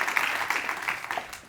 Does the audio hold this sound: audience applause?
yes